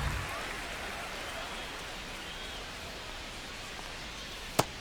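Rain pours steadily over a baseball field in MLB The Show 25, a dense, even hiss of falling water with one sharp tap near the end.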